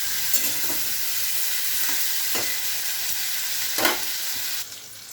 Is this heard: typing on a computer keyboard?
no